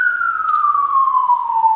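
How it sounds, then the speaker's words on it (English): A loud police siren wails steadily nearby, its pitch sliding slowly downward as it passes. "Sorry about the police sirens."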